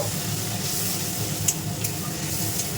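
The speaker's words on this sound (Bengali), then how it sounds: "এই মশলাটা ভালো করে কষিয়ে নেব" Spice paste for a dhania katla fish curry fries in a pan with a soft, steady sizzle, faint and continuous with a couple of small crackles.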